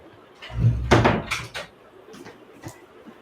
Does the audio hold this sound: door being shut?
yes